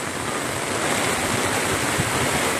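Swollen river at Nangka, Marikina rushing after heavy rain: a loud, steady roar of churning floodwater that holds without a break throughout, close by and with no voices over it.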